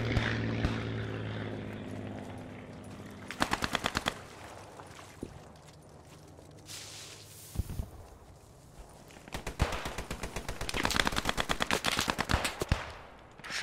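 Machine gun in the WWII shooter Post Scriptum, fired in several sharp rapid bursts close by, with scattered distant gunfire and a low aircraft drone in between.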